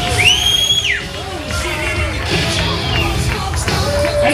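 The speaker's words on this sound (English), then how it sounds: "Give her a big round of applause," A crowd at the Leesburg Bikefest 2015 bikini contest yells, whoops and cheers for the first runner-up, a loud, steady roar of voices with scattered shouts for several seconds.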